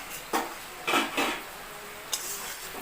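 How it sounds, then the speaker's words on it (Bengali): A lid clatters onto a metal cooking pot of chicken kosha in a few sharp clanks, with short metallic scrapes ringing briefly in a quiet kitchen. "এবার আমি চাপা দিয়ে দেব।"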